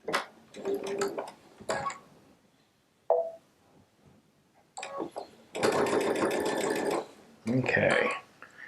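A Baby Lock Solaris sewing machine fitted with a 1/4" piecing foot stitches fabric in short bursts of rapid mechanical whirring, separated by pauses with soft handling noises and a brief voice.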